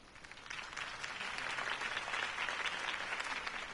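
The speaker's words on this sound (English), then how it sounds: "could have heard that applause" Applause for a campaign speech at a rally in Batman: The Telltale Series, a steady wash of clapping that swells in the first half second and stays dense and even to the end, with no voices over it.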